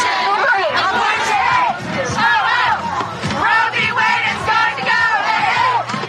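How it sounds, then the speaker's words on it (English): A large protest crowd outdoors chanting and yelling in rhythmic call-and-response waves, loud and dense, with many overlapping voices shouting together throughout. "While there were large, cacophonous crowds outside"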